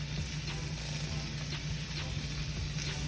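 Pork seasoned with salt and pepper sears in a hot pan, a steady, loud sizzle with faint scraping ticks running underneath and no voices.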